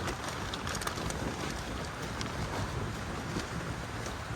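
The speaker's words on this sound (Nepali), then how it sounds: "यत्रो ठुलो पानी पऱ्यो" Heavy rain pours steadily onto a makeshift tree shelter, a dense, even hiss of drops and spatter close by with no pause throughout.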